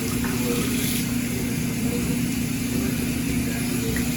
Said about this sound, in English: Run it under really hot water and try to get most of it off.